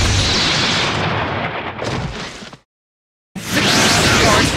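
Explosion jutsu from the video game Naruto Ultimate Ninja Storm 3: a loud, sustained roaring blast with broad rumble, cutting to sudden silence before a second burst erupts just as loudly.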